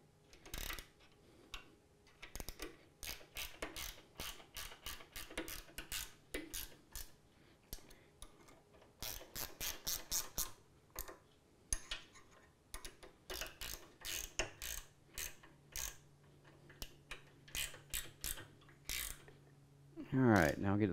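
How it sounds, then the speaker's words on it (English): A ratchet tightens bolts on a D-BOX 4400i motion simulator, giving bursts of quick, close metallic clicks in uneven runs with short pauses between strokes, and someone speaks briefly at the end. "Get the right ratchet direction here. Snug that up."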